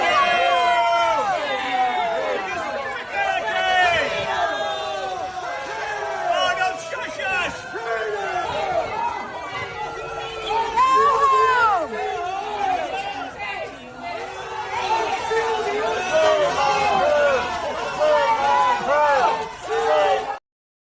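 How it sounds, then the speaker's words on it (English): A large crowd boos and shouts a politician off a stage, a sustained loud roar of jeers and yelling with individual voices rising and falling over about twenty seconds. "So she was literally booed off the stage."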